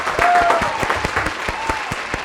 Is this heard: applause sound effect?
yes